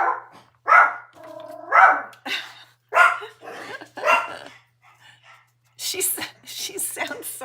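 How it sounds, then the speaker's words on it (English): Several dogs barking indoors in a home, a series of loud close barks in a rough rhythm, followed by someone speaking briefly. "the dogs are barking at Ellie"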